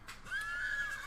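A horse neighs in a video game, a single whinny rising and holding steady for about a second, fairly close and clear with no talk over it.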